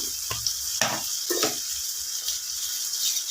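Tomato and spices sautéing in a pan for a drumstick stir-fry, a steady close sizzle with a few scraping stirs of the spoon.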